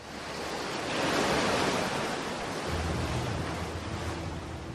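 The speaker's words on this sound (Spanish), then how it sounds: "Cuando vas a la playa, lo que sueles mirar son las olas rompiendo" Ocean waves break and wash onto a beach in a broad roaring surge that swells, then settles into a steady rushing hiss, close and loud with no voices.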